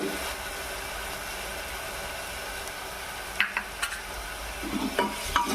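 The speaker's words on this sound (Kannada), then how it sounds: "ಈಗ ನೋಡಿರಿ ಚೆನ್ನಾಗಿ ಸ್ವಲ್ಪ ಫ್ರೈ ಆಗಿದೆ" Spices frying in a pan for dal in a home kitchen, a steady soft sizzle with a few light clicks of stirring toward the end, no talking.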